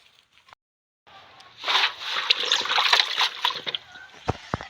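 Water splashes and sloshes in a bucket, starting after a brief pause and continuing in uneven bursts with a few sharper drips near the end.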